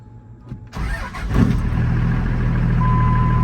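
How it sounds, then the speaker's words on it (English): A show truck engine cranks briefly and fires up, catching with a loud burst before settling into a steady, rumbling idle close by. "Fired right up."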